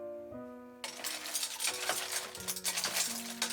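A spoon clinks and scrapes against a lidded saucepan while mussels heat over low heat, a short stirring clatter up close after a brief tonal ring, with faint sizzling underneath.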